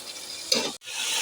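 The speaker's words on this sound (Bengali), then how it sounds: "এটা ভেজে নিয়ে তুলে দেব ভালো মতন ভাজা হলে" Flattened rice is being fried in a pan for chira pulao, making a brief scrape of stirring over a soft sizzle that cuts off abruptly, with no voices.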